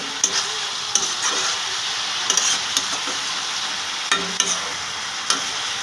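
Potatoes and spinach stirred in a hot pan, a spoon scraping and clicking against the metal in irregular strokes over a steady close sizzle of frying.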